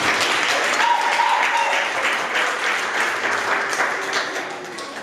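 A church congregation applauding, a sustained wash of many hands clapping that fades slightly toward the end.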